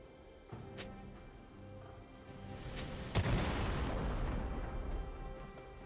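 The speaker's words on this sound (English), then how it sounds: "Red team's turret has been destroyed." Turret destruction in a League of Legends match: a deep booming blast hits at mid-clip and trails into a broad rumbling roar, with fainter thuds before it, no talk.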